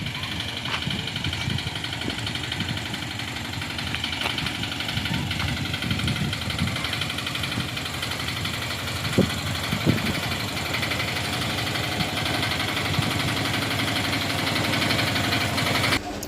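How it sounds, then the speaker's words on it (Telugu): A Tamil Nadu auto-rickshaw engine idles steadily after a mechanic's repair, a continuous mid-pitched rumble with faint irregular knocking and vibration running throughout, no speech over it. "ఆ ఇంజన్ బీడింగ్ ఎలా ఉందో చూడండి."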